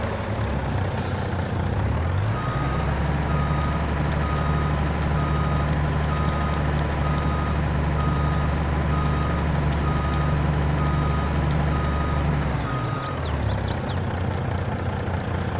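A truck in Farming Simulator 22 idles with a deep engine rumble while a steady series of loud reversing beeps sounds for about ten seconds, with air brake hisses at the start and end.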